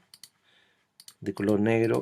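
A few quiet, crisp computer mouse clicks come while editing an image in Photoshop, spaced apart in a near-silent room, before a louder voice starts speaking.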